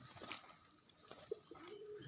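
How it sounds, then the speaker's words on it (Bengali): Healthy domestic pigeons in a loft give a faint, soft coo toward the end of a quiet stretch of low background noise. "এখানে দেখেন যেসব কবুতরগুলো আছে আপনার সবগুলাই দেশাল কবুতর, খুবই সুস্থ আছে এবং ভালো আছে"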